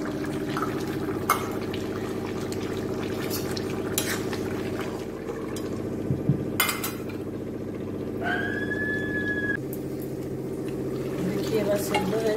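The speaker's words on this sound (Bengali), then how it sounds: "কাঁচা লঙ্কা আর টমেটোগুলো দিয়ে দিচ্ছি।" A spoon stirs a chicken stew with potatoes after tomatoes and green chillies go into the pot, a soft steady bubbling with scraping and occasional clinks of utensil against the pan.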